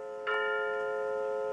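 A clock strikes six o'clock indoors, a single bright bell-like chime starting sharply and ringing on with a sustained, slowly fading tone, fairly close and clear with no talking.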